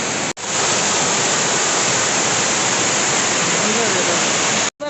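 Olichi waterfall swollen after rain, a loud, continuous rushing roar of heavy water pouring nearby, steady and unbroken apart from two brief cuts.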